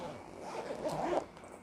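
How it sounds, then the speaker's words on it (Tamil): A zipper on a leather makeup brush pouch is pulled open in one short, close rasping run, quiet overall with a brighter burst near the end. "ஜிப் ஓப்பன் பண்ணுன்னா"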